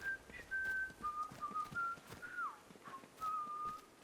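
A thin, sustained whistle from bus wheels in Atomfall drifts up and down in pitch in long sliding tones. It is moderately loud and continuous, with no voices.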